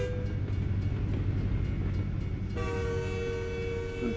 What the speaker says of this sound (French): le train, là, tu klaxonnes, tu passes quand tu veux